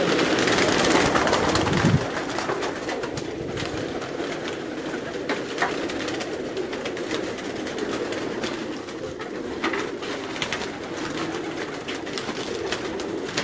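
Racing pigeons on a Karachi rooftop coo steadily nearby, soft repeated throaty calls over a wash of outdoor noise, with a louder rustle at the start.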